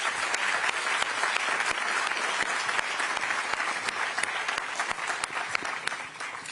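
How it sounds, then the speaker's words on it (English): A NATO summit audience applauds its panelists in a full, continuous wash of clapping with distinct sharp claps popping through, steady and strong before tapering slightly at the end. "With your applause, would you please kindly thank our wonderful panelists for a great discussion"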